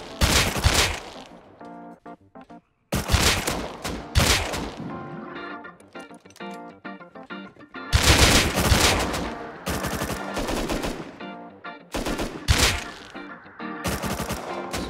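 Gunfire in the survival video game Rust during an oil rig run, with loud, close bursts of rapid automatic shots in several long volleys separated by short silent gaps, and no talking.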